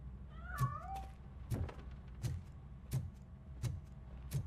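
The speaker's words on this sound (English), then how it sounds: "That cat must be hiding inside." Cat meowing inside a piano in RoboCop Rogue City, one wavering meow early on, followed by a steady series of six dull thumps spaced about every 0.7 seconds over faint background ambience.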